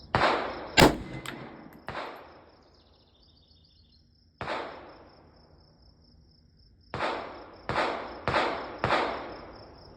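An unsuppressed 7.62x39 rifle fires Atomic 220 grain hollow point ammunition outdoors, sharp loud cracks spaced irregularly, about eight shots with ringing decays between them.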